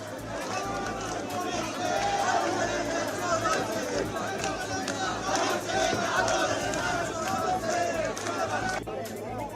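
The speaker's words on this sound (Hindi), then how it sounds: "युवक कांग्रेस के कार्यकर्ता हैं जो वहाँ पे नारेबाजी कर रहे हैं" Youth Congress workers at a political rally near Gandhi Smriti in Delhi shout slogans in a loud, continuous roar of massed voices, with chatter and shouting blending into a dense outdoor crowd din.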